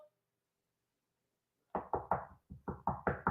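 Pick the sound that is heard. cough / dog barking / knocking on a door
knocking on a door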